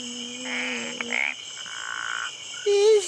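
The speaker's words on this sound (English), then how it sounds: "It's a frog, isn't it, Byron?" Frog croaking in a short sequence of a few croaks and a rising chirp, fairly clear and close, with no talking.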